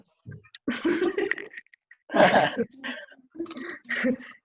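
Several short coughs and throat-clearing bursts in a row, close and fairly loud, separated by brief pauses.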